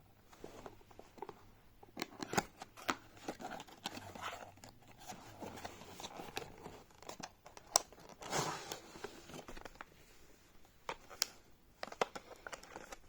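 Packaging of an electric manicure and pedicure device being opened, with scattered crinkling, rustling and tearing of cardboard and plastic, sharp clicks and handling noises throughout, fairly quiet and close.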